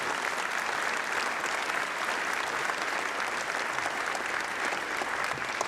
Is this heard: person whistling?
no